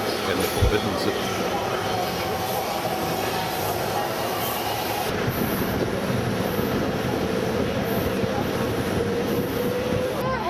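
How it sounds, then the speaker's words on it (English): An underground subway train carries passengers through Beijing, a constant rumbling roar with rattling and rushing air, loud and enclosed throughout, with faint voices mixed into the din. "we caught the underground train into Tiananmen Square and the Forbidden City"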